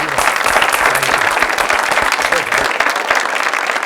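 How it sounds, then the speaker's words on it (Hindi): A studio audience on a television comedy show breaks into loud, close clapping, with distinct individual claps audible and some voices and chatter mixed in. "तालियां"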